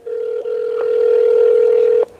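A telephone dial tone rings out steady and loud during a call back, a single sustained tone with a brief dip near the start and a sudden stop after about two seconds.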